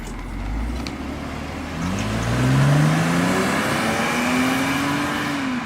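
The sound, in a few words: BMW E39 528i engine accelerating on a test drive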